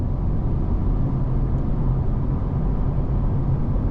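A 2024 Acura Integra Type S cruising at 75 mph around 2,900 rpm gives a steady, loud, unbroken drone of engine note and tire roar from inside the cabin, with no voices.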